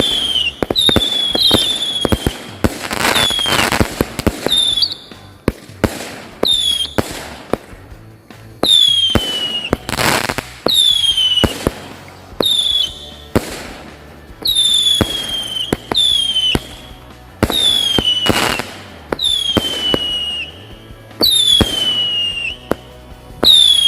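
Firecrackers and whistling fireworks set off on takbiran night in a village, a dense run of loud bangs, crackles and rising shrieks in repeated bursts close by.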